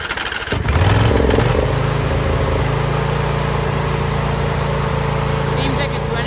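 A neglected John Deere lawn mower engine runs steadily off choke after a restart, its low, even drone close and loud for the whole stretch, with a brief rough burst near the start before settling into an idle.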